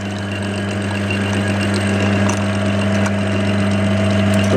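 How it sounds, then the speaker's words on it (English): Clarke CL430 lathe running steadily while milling a dovetail, a loud, constant motor hum with a mechanical drone and no speech. "We bring the lathe saddle all the way to home, so it clears the workpiece."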